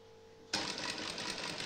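After a faint hum, a sewing machine suddenly starts stitching a cotton housecoat, giving a fast, steady mechanical whirring that runs continuously and close by.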